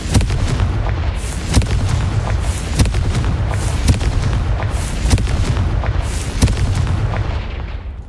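The Confringo exploding spell in the Hogwarts Legacy video game: a loud, close sequence of booming blasts, roughly one every second, over a dense, rumbling low background with no talk.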